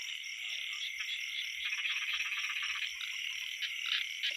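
Small frogs croak in a rice field, a dense, steady chorus of rapid, rasping calls that overlap continuously at moderate distance with no voices.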